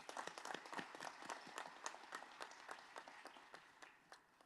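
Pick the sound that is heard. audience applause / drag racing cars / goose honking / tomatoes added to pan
audience applause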